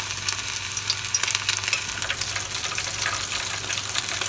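Tempura fries in hot oil, a steady bright crackling sizzle with scattered pops and a low hum underneath, continuous and fairly quiet, with no talking.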